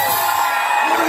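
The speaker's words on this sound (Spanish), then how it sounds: "¡El grito más mexicano!" A crowd lets out a loud, sustained Mexican grito shout in a lively gathering, a dense mass of whooping and yelling voices held steadily over about a second, close and full.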